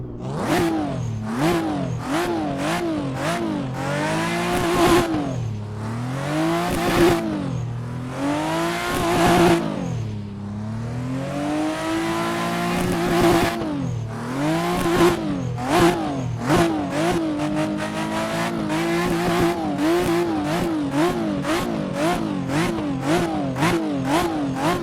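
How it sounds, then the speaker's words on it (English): Toyota MK4 drift car in Assetto Corsa, engine revving hard and continuously, pitch sweeping up and down with rapid gear shifts and bouncing limiter pulses, loud and close throughout with no talking. "test now this Toyota MK4 Drift sound, the original one"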